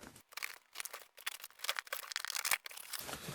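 Tokidoki-brand wrapping paper is torn and pulled off a package, producing crisp irregular crinkling and ripping bursts that sound close and fairly quiet.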